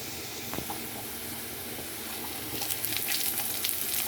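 Whole spices tempering in hot oil after bitter gourd has been fried, a soft continuous hiss that swells brighter and louder toward the end, no talking.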